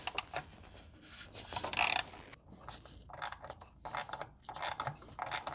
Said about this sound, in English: there is a bracket right there, and I'm gonna use this Phillips torque bit